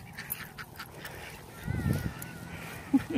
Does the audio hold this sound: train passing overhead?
no